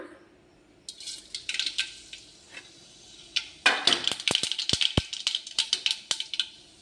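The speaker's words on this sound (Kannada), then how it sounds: "ಈಗ ಆಲ್ರೆಡಿ ಎಣ್ಣೆ ಹಾಕಿದ್ದೀನಿ ಈಗೇನು ಮಾಡೋಣ ಅಂದ್ರೆ ಜೀರಿಗೆ ಸಾಸಿವೆ ಹಾಕೋಣ" Cumin and mustard seeds hit hot oil, giving a crackling sizzle with a rapid scatter of sharp pops and spits that grows busier partway through, heard up close without talk.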